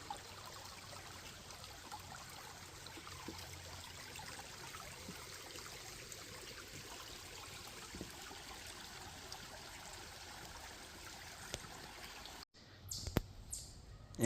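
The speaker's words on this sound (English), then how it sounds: "And what would a hike be without a babbling brook?" Babbling brook along a hiking trail in the Crystal Gorge Conservation Area, a steady close trickling and gurgling flow that runs evenly for most of the stretch, with a few faint bird calls and a brief knock near the end.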